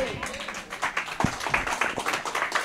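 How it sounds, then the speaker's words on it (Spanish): A church congregation on its feet applauding, many hands clapping in a dense, irregular patter with voices mixed in underneath. "Póngase sobre sus pies y déle un aplauso al Rey."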